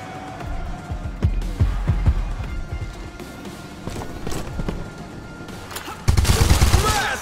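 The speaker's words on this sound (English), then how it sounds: "Couldn't dodge the bullets." Gunfire in the video game ShowGunners: scattered sharp shots and bursts over a busy battle backdrop, ending in a louder, denser volley.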